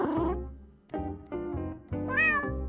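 A pet cat meows three or four times in a row, close and clear, with short pauses between calls and no one talking.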